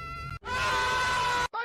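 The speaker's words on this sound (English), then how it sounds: "Kirby falls with different screams." A high, sustained cartoonish scream from the video game character Kirby as he falls, one loud drawn-out cry of about a second, preceded and followed by brief other sounds.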